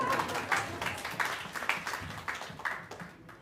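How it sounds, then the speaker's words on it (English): An audience at a klezmer concert applauds, faint and somewhat distant, a soft wash of many hands that tapers off within a few seconds. "Now you can clap."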